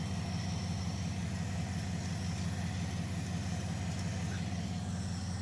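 A Dodge Charger engine idles steadily after its misfire has been fixed, giving a smooth, continuous low rumble that stays even and close throughout.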